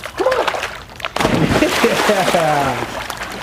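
A dog splashes through water in broken, lively bursts, with a voice calling and praising her over the sloshing.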